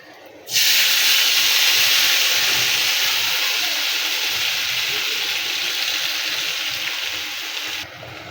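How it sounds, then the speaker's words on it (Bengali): Running water pours steadily as water lily flowers are washed, a loud, even rushing hiss that starts abruptly, lasts about seven seconds and then cuts off, with no voices. "এই দেখুন আমি শাপলা ফুল ধুয়ে রাখছি।"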